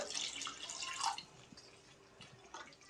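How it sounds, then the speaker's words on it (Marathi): Water is poured into a cooking dahi kadhi of yogurt and gram flour batter, a brief close splashing pour fading into soft trickles and drips, faint and with no talk. "हवं तितकं पाणी टाकून घेऊया"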